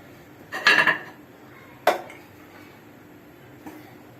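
A spoon scrapes blended date mixture for date ladoos out of a blender jar onto a separate plate, giving a short burst of clinking and scraping, then a sharp knock and one faint tap in a quiet kitchen.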